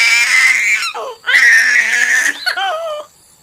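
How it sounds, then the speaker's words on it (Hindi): A girl cries loudly in an animated Hindi story, two long wailing sobs followed by a shorter, falling whimper before it fades. "राजू की बेटी जोर जोर से रोने लगती है।"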